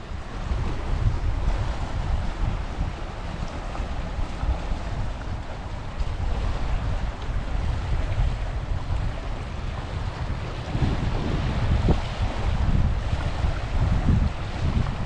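Steady wind roars across the microphone on the Welsh coast, with waves washing and surging continuously underneath, loud and unbroken, no voices.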